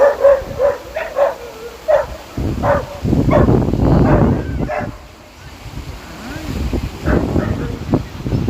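Several dogs bark in a quick, uneven series on a downtown street in Toronto's Lower East Side, loud and near at first, then fading under street noise, wind rumble and a voice speaking.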